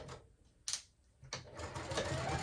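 A sewing machine top-stitches a card slot on a wristlet clutch wallet, giving short start-stop bursts of quick mechanical stitching that end in a longer, steadier run, close and clear.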